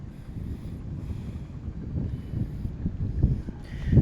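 Strong wind blows over a rice paddy, buffeting the microphone in low, uneven rumbling gusts that swell toward the end, loud and close.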